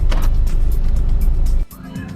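A four-door Integra with the US-market front end drives past closely at a car meetup, its engine and road noise loud and steady before dropping off sharply.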